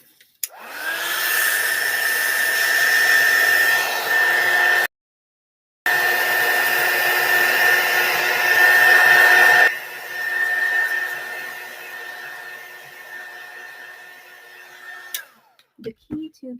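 A heat tool dries stamped ink on a crafting surface, a steady close whirring hum that cuts out briefly, resumes, drops in level partway, then switches off, followed by faint handling clicks.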